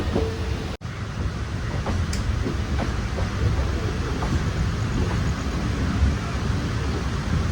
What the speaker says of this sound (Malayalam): ട്രെയിൻ പോവുക തന്നെയാണ്